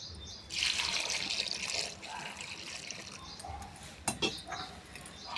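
Water pours into a pot holding drumstick pieces and tamarind for sambar, a close splashing gush for a few seconds that eases to trickles and drips, with a clatter near the end and no talking.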